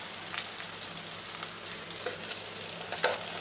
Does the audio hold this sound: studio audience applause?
no